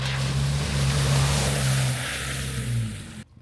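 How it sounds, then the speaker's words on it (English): Range Rover L322 on 35-inch tires pushing through a river crossing in a frozen forest, a loud steady rush of water and engine drone with a low hum, fading into a brief surge before cutting off. "Whoa, look at this river crossing."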